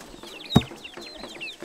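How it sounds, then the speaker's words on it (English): Chickens clucking close by on a farm along the Amazon, several short rhythmic clucks with one sharper, louder call near the middle, no talking. "Chicks."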